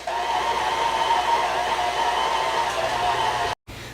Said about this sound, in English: I'm going to mix this till it's well combined.